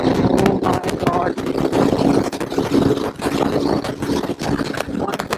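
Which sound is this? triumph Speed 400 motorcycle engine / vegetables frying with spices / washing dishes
triumph Speed 400 motorcycle engine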